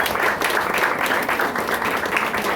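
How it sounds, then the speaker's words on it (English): An audience claps and applauds steadily throughout, a dense, sustained wash of hands from a crowd. "Andrew Ferenbach, give him a round of applause."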